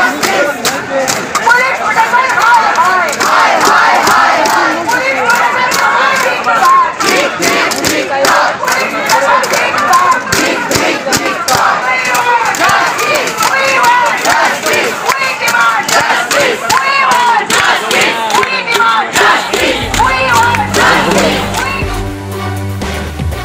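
Protesting doctors chant slogans in unison at a barricade during the RG Kar protest, a large crowd shouting loudly and rhythmically over a constant din, with a low vehicle rumble near the end.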